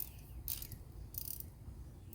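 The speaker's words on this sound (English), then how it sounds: "You have to have a 19mm socket and loosen the check valve up" A 19mm socket ratchet loosens the track-tensioner check valve on a Ditch Witch SK750 compact tracked loader. Two short, faint bursts of ratcheting clicks stand apart over a low, steady background hum.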